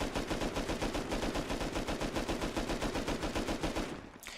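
An LR-300 assault rifle in the game Rust fires a rapid, sustained full-auto burst, dozens of evenly spaced sharp shots that cut off abruptly near the end.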